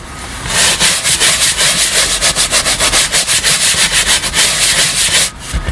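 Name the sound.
scrubbing dirty leather car seat with a pad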